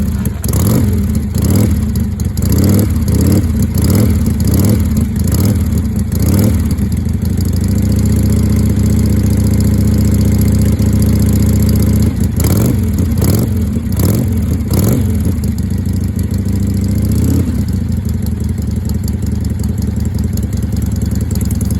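Original 1974 Harley-Davidson XLCH Sportster on a very cold day, running loud and close, with repeated throttle blips and revs over a lumpy idle, settling into steady idle between bursts.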